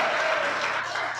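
A church congregation applauding in praise during a sermon, a brief, steady wash of many hands clapping that fills the room.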